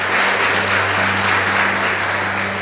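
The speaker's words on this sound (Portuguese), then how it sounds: "Vamos aplaudir o Senhor bem forte" Church congregation at the Igreja Internacional da Graça de Deus in Codó, Maranhão, applauding loudly and continuously, a dense wash of clapping with a low steady hum underneath.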